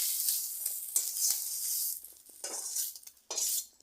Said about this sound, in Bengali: মাছগুলো আমি তেলে দিয়ে দিলাম